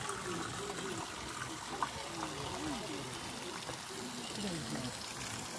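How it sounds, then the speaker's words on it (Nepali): Water flows steadily in a garden fountain at a rose garden, a faint, even rush with soft voices murmuring underneath. "यो भित्र पानी बगिरहेको छ"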